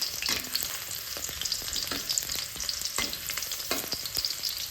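Spices sautéing in hot oil in a pan: a dense, continuous close sizzle crackles throughout, with faint stirring scrapes now and then and no voices.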